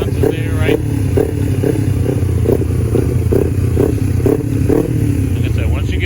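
A 250cc budget-build motorcycle engine runs loud and close as the throttle is blipped in repeated short surges over a constant rough idle, with someone talking over it.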